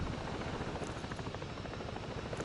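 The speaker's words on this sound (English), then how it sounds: "And look how stable this helicopter is." A helicopter in flight in the Ghost Recon Breakpoint video game, a loud, dense rotor roar with steady rapid chopping that fills the whole short stretch with no talking over it.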